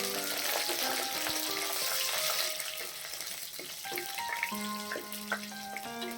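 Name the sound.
tempering spices frying in hot oil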